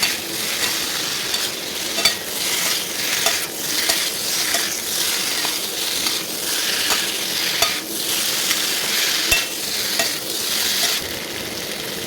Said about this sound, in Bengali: কেটে রাখা আলুগুলো আমি দিয়ে দিচ্ছি আলু খেতে মশলাগুলো ভালোভাবে মিক্স করবো